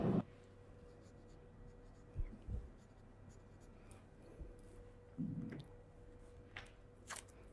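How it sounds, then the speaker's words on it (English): A marker writes on a fabric waistband while sewing a blouse, giving a few faint, brief scratchy strokes with quiet pauses in between, close by and soft. "I'll also mark the upper and the lower parts of the waistband."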